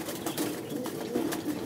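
An Aqati pigeon, a racing-loft breed, cooing softly among other pigeons, with low murmuring coos and light rustling over a steady background hum.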